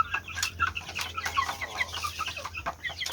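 Several 45-day broiler chickens on a farm cluck and chatter continuously at close range, with overlapping short calls and a steady low hum beneath.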